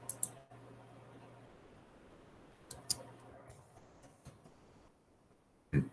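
Computer keyboard being typed on quietly, with a few scattered, faint key clicks spread across a near-silent room rather than a fast continuous run.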